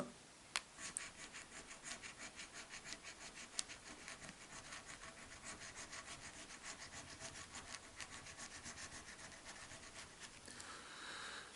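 Steady, fine scratching and rubbing close by, a continuous rasp with small rhythmic strokes, as a scratch-off lottery ticket is scratched.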